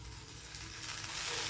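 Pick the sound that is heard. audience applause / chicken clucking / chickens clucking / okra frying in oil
okra frying in oil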